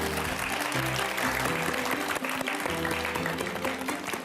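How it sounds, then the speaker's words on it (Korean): A lecture audience gives a steady, full round of applause for an author after a talk and Q&A, dense clapping that holds evenly throughout, with musical tones sounding faintly underneath. "다시 한번 박수 주실까요?"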